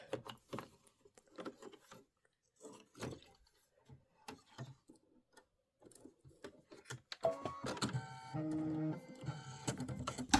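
An embroidery machine stitches out the phrase Joy to the World in cashmere thread, beginning with scattered soft clicks and settling into a rapid, steady mechanical chatter near the end.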